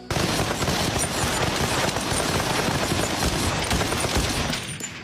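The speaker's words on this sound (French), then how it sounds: "Les coups de feu cessèrent." A firing squad fires blank rounds in a film scene, giving a dense, continuous fusillade of overlapping gunshots that crackles loudly for about five seconds before cutting off abruptly.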